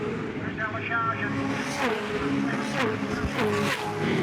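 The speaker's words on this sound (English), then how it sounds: "don't those cars sound fantastic as the noise echoes off the Armco fence here?" V8 Supercar engines roar and rev at Wakefield Park in 2007, pitch rising and falling as cars pass, echoing off the Armco fence, under a commentator talking throughout.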